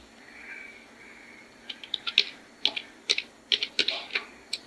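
Typing on a computer keyboard while entering a database query, with quiet, close key clicks arriving in quick irregular bursts after a brief pause.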